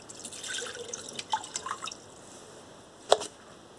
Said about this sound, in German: Nehmt da einen Topf, macht da die auf den Herd, halben Liter Wasser reinmachen